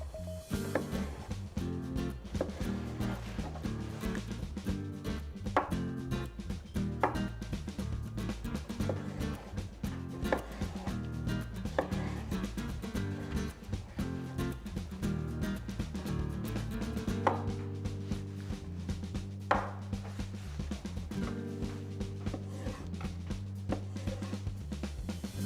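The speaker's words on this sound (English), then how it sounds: "Let's cut them in slices." A knife slicing zucchini on a cutting board in a home kitchen for zucchini parmigiana, with steady repeated chopping strokes running throughout under a continuous musical bed.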